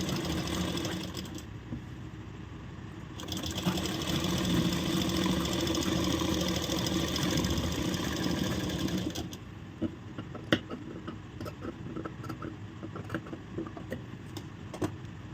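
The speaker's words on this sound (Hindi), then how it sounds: "अच्छे से फैब्रिक को बिठा देंगे और यहाँ पर सिलाई शुरू कर देंगे" A sewing machine stitches the bottom edge of an off-shoulder blouse, running in a steady sustained whir for several seconds before stopping, then scattered clicks and handling noises follow with no talk.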